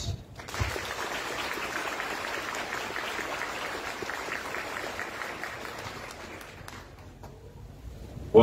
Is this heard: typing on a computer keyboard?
no